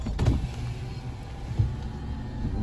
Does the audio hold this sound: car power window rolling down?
yes